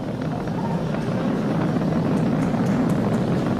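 A Falcon 9 rocket climbs through launch ascent, its engines making a continuous, even, deep roar that holds steady from start to finish with no break.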